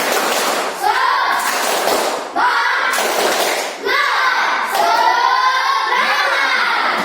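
Students in a physical education class, about to practise volleyball, perform a rhythmic spirit clapping chant: loud bursts of clapping and children's shouted voices in repeated phrases, with brief pauses between sections.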